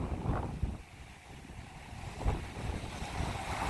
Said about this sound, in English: there's a steady wind